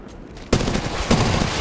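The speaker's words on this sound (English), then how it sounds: "Spotted an enemy. They're shooting at me." Gunfire in Apex Legends on Kings Canyon, a loud burst of rapid automatic shots that starts abruptly after a brief quieter lead-in, followed by a second surge of firing.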